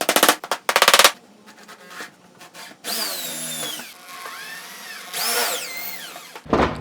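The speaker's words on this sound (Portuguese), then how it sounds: "Aí eu continuo esse furo." A power drill bores a hole in pallet wood for a DIY stool, sounding in several close bursts: a sharp rattling start, then whining pitch sweeps as the bit spins up and slows, ending with a short loud burst.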